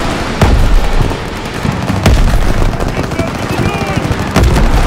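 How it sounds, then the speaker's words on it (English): Grenade blasts and gunfire in a Call of Duty World War II battle at the Rhine near Remagen, Germany: a dense, loud stream of rifle and machine-gun fire with three heavy booming bursts spaced a couple of seconds apart. "Lobbing a grenade!"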